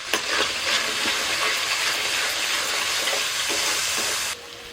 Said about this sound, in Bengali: মশলাটা একটু কষিয়ে নিয়ে